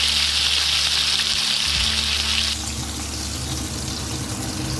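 A whole chicken frying in a kadai of hot oil over full flame, giving a loud, dense, continuous sizzle close up that eases slightly partway through.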